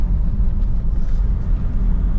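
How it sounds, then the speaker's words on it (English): A car rolls past on a dusty outback track in Cape York, a steady low engine rumble and tyre roar filling the clip at close range with no voices. "Car pops out of nowhere."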